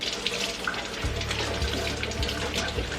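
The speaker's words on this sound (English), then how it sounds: "First, you're gonna need to wash your poblano peppers." Poblano peppers are washed under a running kitchen tap, a steady close splash and rush of water with low thuds as the peppers are handled beneath the stream, no voices.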